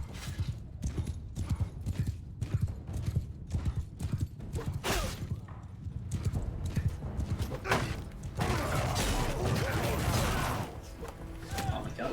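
Hooves of a horse clatter rapidly in a gallop during a battle in the Mount and Blade Bannerlord video game, a steady drumming under dense crashing game noise, with a voice talking over it.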